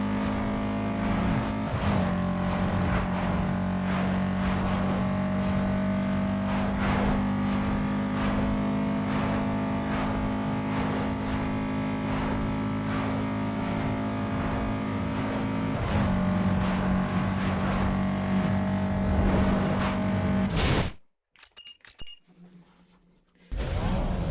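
A racing video game car holds a steady, loud engine drone with sustained tonal revving that shifts pitch twice. It runs for about twenty seconds, then cuts abruptly to near silence before briefly resuming.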